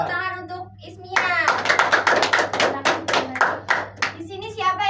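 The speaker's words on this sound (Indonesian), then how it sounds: "Beri tepuk tangan untuk Ismia." Classroom applause for a student during a microteaching lesson, a burst of children's rhythmic clapping that starts after a teacher's voice and fades as speech resumes.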